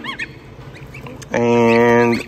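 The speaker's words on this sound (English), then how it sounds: "all three of the geese are doing well" One of three geese gives a loud, close, nasal honk lasting almost a second, following a brief soft sound and quiet background.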